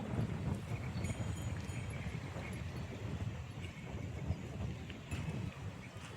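Wind rushes and buffets steadily against the microphone, a low, constant roar with faint rustling and no voices.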